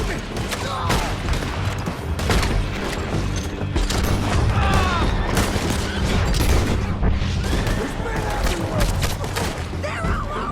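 A gunfight in the video game Red Dead Redemption 2, with dense, rapid cracks and booms of gunfire over a constant rumbling din, loud and continuous, while voices shout underneath.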